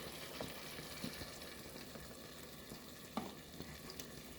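Spoon stirring a pot of coconut milk on the stove, faint low sizzling and bubbling with a couple of soft scraping knocks from the utensil against the pot.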